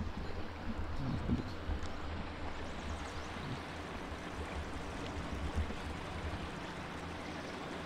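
A small waterfall rushes steadily outdoors, a constant broadband wash of falling water that stays even from start to finish with no talking.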